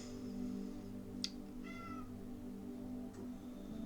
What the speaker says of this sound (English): That's my cat Nellie, sorry.